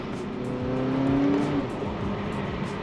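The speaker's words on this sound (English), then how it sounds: "you can definitely hear when you put it in sport, it's almost like the valves are opening and it's a little bit more aggressive" 2023 Volkswagen Arteon R-Line in sport mode, its engine rising in a smooth building drone as it accelerates, heard from inside the cabin and without speech.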